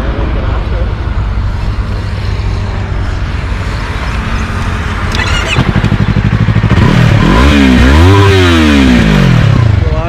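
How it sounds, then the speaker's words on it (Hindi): A 2024 Yamaha R3 sport motorcycle idles loudly and close by, then revs hard in several rising and falling sweeps toward the end. "R3 की अगर हम बात करें तो R3 कैसी साउंड कर रही है आपकी"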